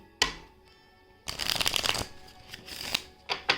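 A tarot card deck is riffled and shuffled in several crisp, papery bursts, one brief flick followed by a longer rushing shuffle and a few short riffles, close and clear with no talking.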